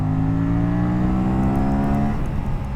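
An Aprilia RS 457 motorcycle engine drones loudly and steadily, then its pitch drops and blips near the end as it rev-matches a downshift, close and continuous with no talk.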